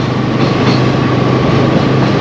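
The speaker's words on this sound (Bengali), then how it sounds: "ফারাক্কার উপর দিয়ে যাব আর পাশ দিয়ে ট্রেন যাবে না, তা কি করে হয়?" A train runs alongside on the Farakka bridge, giving a loud, steady rolling rumble of wagons that fills the whole stretch without a break and has no speech over it.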